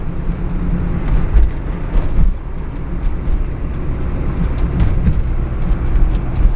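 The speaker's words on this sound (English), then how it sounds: "I was trying to nail it and kick that detent down, see if the passing gear was working" A 1969 Camaro RS pulls hard under full throttle with a transmission kickdown into passing gear, a loud, steady low engine roar with road and wind noise throughout and no clear gear change standing out.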